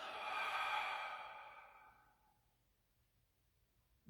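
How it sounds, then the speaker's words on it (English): A single deep, slow breath during a guided meditation, a soft airy exhale that fades over about two seconds into near silence. "A deep breath."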